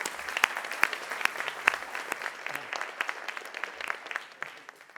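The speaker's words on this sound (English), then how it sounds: "Maybe that's worth a round of applause." Sparse applause at a business luncheon for APEC officials, with a smaller group clapping in distinct, uneven individual claps rather than a dense roar, fading toward the end.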